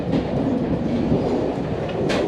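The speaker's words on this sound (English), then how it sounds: "One thing I do love, as you can see right now, I'm on the metro." Steady rumble and clatter of a Paris metro train in motion, heard from inside the car, loud and continuous with rail noise and a brief higher hiss near the end.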